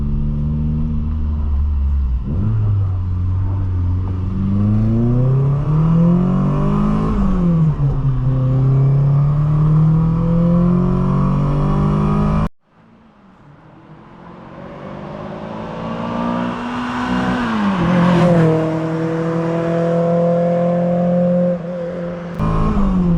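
A 1986 Volkswagen Scirocco 16V engine pulls hard through the gears from inside the car, revs climbing and dropping at each shift, a brief break, then another loud rising run and upshifts.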